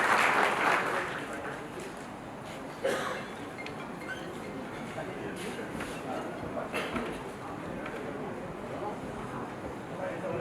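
An audience at a jewellers' association oath-taking ceremony claps to welcome the president, applause strongest at first, then continuing beneath someone speaking over a microphone.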